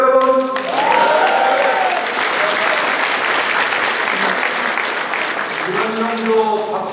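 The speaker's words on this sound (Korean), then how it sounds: "이런 정도 박수 갖고는 안 됩니다" Party members at a People Power Party provincial gathering clap in dense, sustained applause inside a packed hall, with a voice briefly heard at the beginning and again near the end.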